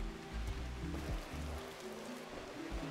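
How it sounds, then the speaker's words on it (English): Steady rain in the RimWorld video game, a soft continuous hiss of falling water that holds even and unbroken throughout, fairly quiet with no voices over it. "And it's raining, thankfully."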